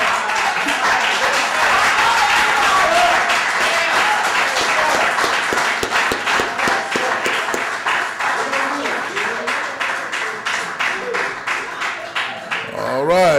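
A crowd at a poetry reading in a branch library claps after a performance, dense broadband applause that starts full and loud, then thins into scattered individual claps and fades toward the end, with a voice faintly audible underneath.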